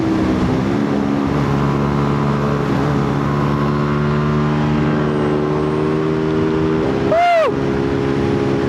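A motorcycle engine drones steadily while riding, a constant loud rumble with a brief rising whine and rush near the end, as on a ride out on a rare bike.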